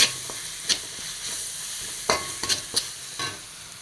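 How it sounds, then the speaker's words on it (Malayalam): Ingredients seasoned with black pepper powder are stirred in a cooking pan over a gentle sizzle, with several sharp scrapes and taps of the spoon at uneven intervals. "നന്നായിട്ടൊന്ന് ഇളക്കി കൊടുക്കണം"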